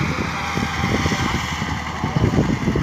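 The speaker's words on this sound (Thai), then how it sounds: "ตอนนี้กำลังหยอดนะครับ กำลังหยอด ก็คือใจรถไถน้อย ลากเครื่องหยอดนะครับ" A small walk-behind tractor pulls a rice seed-drilling machine across a dry-sown paddy. Its engine chugs steadily and close by, with a low, throbbing pulse and a rough mechanical rattle running continuously throughout.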